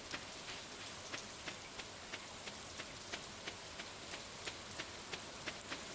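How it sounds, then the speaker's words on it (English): Spring rain in the Stardew Valley video game makes a soft, steady patter with evenly spaced droplet ticks, quiet and unbroken throughout. "being that it is raining and it is spring"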